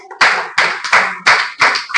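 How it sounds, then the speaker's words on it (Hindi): An audience at a DXN product meeting claps in five short bursts of loud, close hand-clapping, each dying away before the next, with no talk over it. "तो यहाँ पर आते हैं तो ऋषि गैनोट्री के लिए जोरदार ताली लगाइए"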